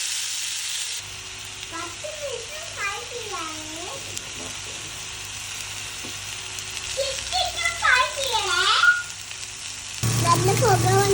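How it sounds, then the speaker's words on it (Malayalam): Karimeen (pearl spot fish) fries in coconut oil on a hot tawa with a steady close hiss and sizzle, while a melodic, voice-like sound rises and falls over it through the middle and again near the end. "ഇന്ന് നമ്മൾ തവയിലാണ് മീൻ ഫ്രൈ ചെയ്യണേ"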